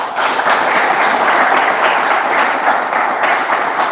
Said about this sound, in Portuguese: Vocês podem dar uma salva de palmas para Jesus?